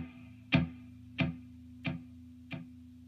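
Boss DD20 delay pedal sends out four evenly spaced repeats on dotted quarter notes, short tick-like hits that fade a little with each echo, faint and close over a low steady hum.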